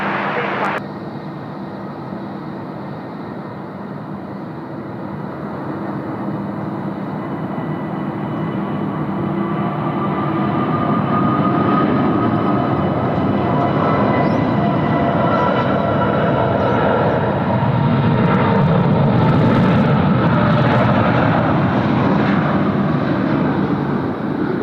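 An Emirates airliner taking off at Sydney Airport in a crosswind, its engines building into a long, loud, rising roar that swells and holds, with a voice talking over it at times.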